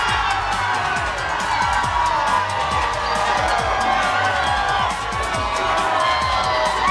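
A crowd at the Melbourne premiere of Paranormal Activity 3 in Australia cheers and shouts loudly and continuously, a dense wall of voices and whoops close by.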